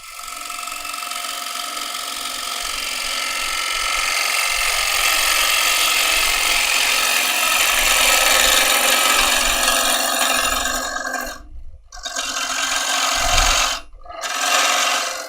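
Wood turning on a lathe with a hand tool, a steady broadband rasping scrape that runs continuously and fairly loud, broken by two brief pauses near the end as the cut stops and resumes.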